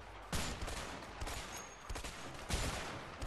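M1 Garand rifle gunfire in the video game A Way Out, several sharp separate shots spaced irregularly over a background of continuous battle noise, moderately loud.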